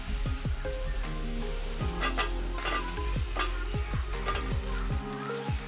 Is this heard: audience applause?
no